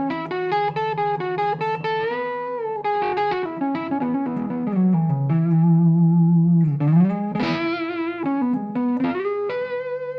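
Electric guitar on its front pickup plays a melodic line with a warm, round tone and slight drive, sustained notes sliding between pitches, steady and close with no talking.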